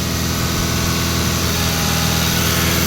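Modified 55 hp Challenger tractor diesel engine with an altered fuel pump, running at raised revs near 2800 RPM, a loud, close, steady droning roar with constant vibration and no talk.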